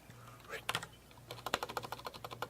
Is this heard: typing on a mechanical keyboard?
yes